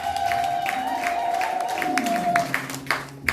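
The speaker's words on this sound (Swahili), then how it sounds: "Kama unanielewa piga makofi kwa Roho Mtakatifu" A church congregation claps hands in steady rhythm, the claps running close and evenly spaced under a sustained tone and the sound of voices.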